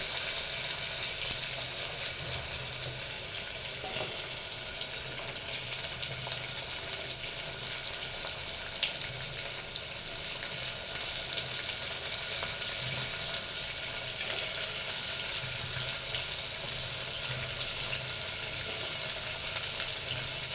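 Onions fry in a pan with a steady, dense sizzle and hiss that runs unbroken throughout, with faint stirring beneath and no voices.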